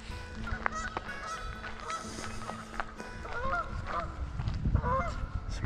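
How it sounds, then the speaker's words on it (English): Geese honk repeatedly in a chorus of overlapping calls, moderately distant, over a rough background of wind and rustle. "Some flying geese."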